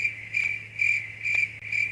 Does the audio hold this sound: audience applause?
no